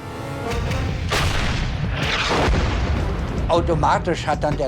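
A heavy tank cannon boom rolls out loudly at 500 metres range, followed by a sustained rumbling roar and a second sharp blast, with voices shouting near the end.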